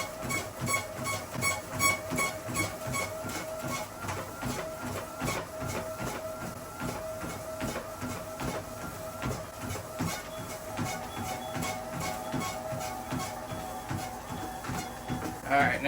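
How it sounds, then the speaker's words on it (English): A treadmill with a worn belt runs at a light jog, making a steady rhythmic clacking of footfalls over a continuous mechanical whir, with a person talking over it. "Start picking up a little jog. I need a new treadmill belt."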